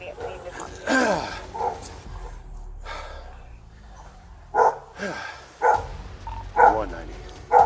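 Attacking dogs at a police call, barking in sharp repeated bursts of moderate loudness, with a voice talking between the barks.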